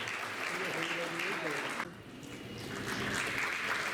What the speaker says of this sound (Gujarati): આપણે ખૂબ તાળીઓ ઉગાડવી